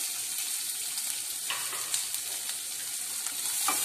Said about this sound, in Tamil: இப்போ வந்து நம்ம கட் பண்ணி வச்சிருக்க வெங்காயத்தை போட்டுக்கலாம்.